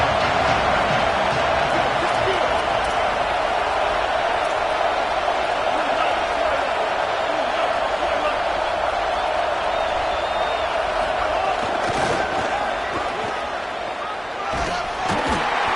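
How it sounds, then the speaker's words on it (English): Stadium crowd at a football game, a loud, sustained roar that stays dense and steady, with a few sharp thumps near the end and a commentator talking over it. "this crowd is turning it up a notch"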